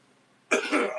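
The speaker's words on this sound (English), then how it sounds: "A burp, a cough, and a sneeze." After a moment of near silence, one abrupt, loud burst that mixes a burp, a cough and a sneeze at once, very close.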